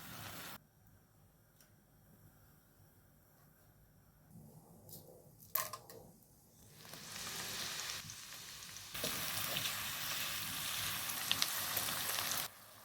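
Ground spices for a chicken roast fry in a pan until browned. Quiet at first, the sizzle rises sharply partway through and then becomes a loud, dense, steady crackle, with a few faint clicks and no speech.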